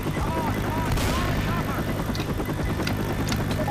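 A video game helicopter's rotor drones loudly and continuously, a low thumping wash that fills the scene, with a few sharper bursts cutting through near the end.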